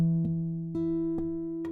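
An E octave chord strummed on an electric guitar, four sharp strums spaced evenly with ringing sustain between them, clear and close with no voices.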